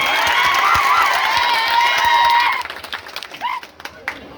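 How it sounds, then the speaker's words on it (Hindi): A dense roar of crowd applause and cheering greets a member of parliament arriving on stage at a Congress party rally, loud and steady, then breaking off into scattered claps and a few voices. "तालियों की गड़गड़ाहट से स्वागत होना चाहिए"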